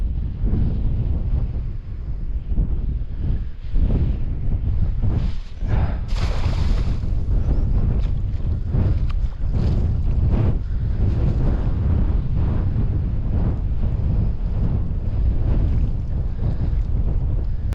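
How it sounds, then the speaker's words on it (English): Strong wind blowing outdoors on the water during a bowfishing outing, a loud continuous roaring buffet across the microphone with gusty surges and no talking. "it's going to be hard with this wind"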